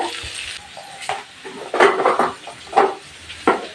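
Food being stirred in a hot pan for an old-style Bengal dish of potato and spiny gourd with ground sweet pumpkin seeds, soft sizzling with a few scraping utensil strokes, close and alone.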